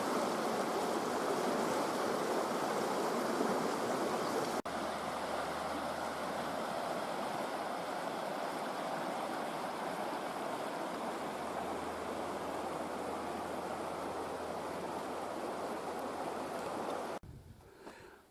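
The River Dart rushes steadily nearby, a dense unbroken hiss and gurgle of flowing water that holds constant throughout with no voices, fading slightly at the very end.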